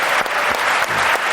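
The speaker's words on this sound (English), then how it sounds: "You have a round of applause." Conference audience at the All-In Summit breaks into applause, a loud, full burst of many hands clapping steadily across the short stretch, with no talking over it.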